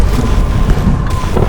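Strong, cold mountain wind roars and buffets the microphone in a loud, continuous rumble, with no voices.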